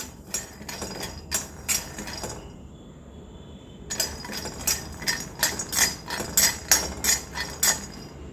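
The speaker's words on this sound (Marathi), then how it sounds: "आपण आधी शेंगदाणे भाजून घ्यायचे आहे मी थोडेसे शेंगदाणे पहिले भाजून घेते" Peanuts rattle and clatter in a pan on a gas stove as they roast, sharp repeated tapping scrapes in irregular bursts, close up, with a short lull before the rattling resumes more rhythmically.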